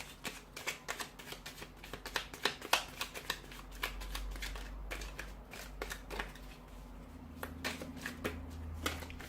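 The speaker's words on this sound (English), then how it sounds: "So we'll give the cards a shuffle" Tarot cards being shuffled up close, a rapid series of crisp slaps and riffles over a low steady hum, with no voices.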